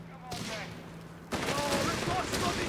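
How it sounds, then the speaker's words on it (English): Machine gun fire in the Company of Heroes 3 strategy game, a dense, sustained burst of battlefield gunfire that grows louder and fuller partway through, mixed with other combat noise. "machine gun letting loose here with all its got"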